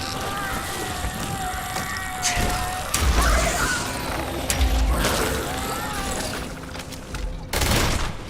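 Gunfire in the space role-playing game Starfield, bursts of shots and impacts over a droning background with tonal sci-fi effects, while a voice talks over the action.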